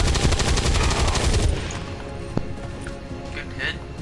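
Gunfire in the video game XCOM: a rapid burst of automatic shots rattles loudly through the first second and a half, then fades into a quieter tail with a single sharp crack.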